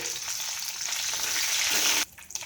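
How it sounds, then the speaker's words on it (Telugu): Cumin, urad dal and mustard seeds fry in hot oil, a dense bright crackling sizzle held close for about two seconds before dropping suddenly to softer spattering. "జీలకర్ర, సాయమినపప్పు, ఆవాలు వేసుకుని ఇవి కూడా దోరగా వేయించుకోవాలి"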